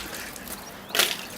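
Water runs from a newly installed designer shower in a master bathroom, a light steady hiss with a brief louder splash near the end, no talking.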